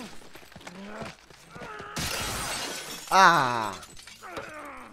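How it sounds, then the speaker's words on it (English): Glass shatters against someone's face in The Last of Us, a sudden loud crash followed by a sharp tinkling burst. Someone shouts and a voice groans around it. "You just got your entire face smashed in glass."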